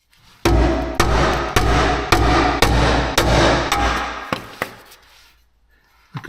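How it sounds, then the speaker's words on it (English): About nine sharp, loud hammer whacks strike an Audi RS4 sump to loosen it, coming at a steady rhythm roughly every half second, then a couple of lighter knocks before it goes quiet. "So it took quite a few whacks, as you can see, but it just seemed like the best way to loosen it."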